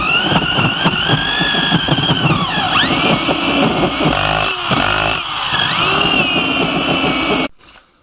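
A power tool runs continuously at a loud, close, buzzing whine while cutting a hole for a 110 mm sewer pipe during septic tank installation, with its pitch dipping briefly under load before it cuts out abruptly near the end.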